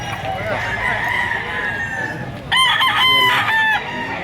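A rooster crows loudly and close by with a stretched, wavering call, joined by a second shorter crow, over a faint background of other birds, on a farm in Lipa, Batangas.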